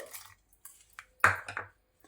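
Half a cup of jaggery is stirred into drinking water in a vessel, making a few sparse close clinks and scrapes of a utensil against the metal, separated by brief silences.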